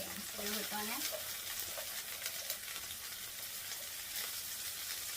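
Korean minari greens fritters frying in hot oil, a steady crackling sizzle that carries on throughout, with a brief voice early on.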